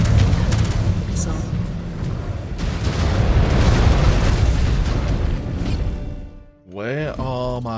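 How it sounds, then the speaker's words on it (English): A sustained rumbling missile explosion in the MechWarrior 5 video game roars loud and dense for several seconds, fades out, then a voice speaks at the end. "Missile."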